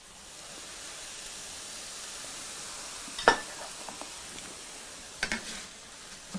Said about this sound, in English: I'm adding just a little bit of the broth in there just to kind of get the rice to sizzle a little bit